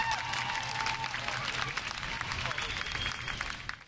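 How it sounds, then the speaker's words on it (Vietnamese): Studio audience at a Vietnamese family game show applauds a three-member team, a steady dense wash of clapping and crowd noise lasting throughout, loud and continuous with music or voices mixed faintly underneath. "vỗ tay lớn cho cả 3 thành viên thưa quý vị"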